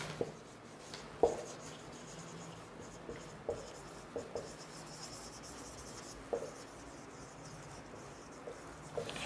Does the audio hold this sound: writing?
yes